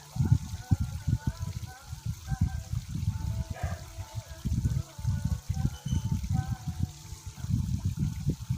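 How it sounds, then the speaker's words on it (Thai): A small cafe waterfall trickles steadily in the background while someone talks over it, the splashing water forming a continuous wash under her voice. "จะได้เห็น น้ำตกนะคะ"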